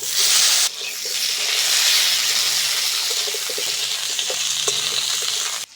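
Washed, cut potatoes hit hot oil tempered with black cumin seeds, giving a loud burst of sizzle that settles into a steady, close frying hiss with faint stirring clinks; nobody speaks.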